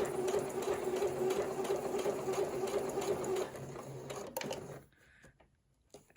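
A sewing machine stitching a coat runs steadily with a fast, even mechanical whir for several seconds, then slows and stops, leaving a few faint clicks near the end.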